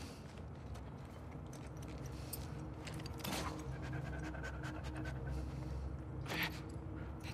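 A dog in The Last of Us Part II pants quickly and steadily, low in the mix under continuous game ambience, with occasional brief clicks and rustles.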